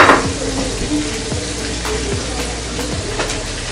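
Oil sizzles steadily in a hot pan as catfish fries, with occasional soft scrapes and taps over the constant crackle.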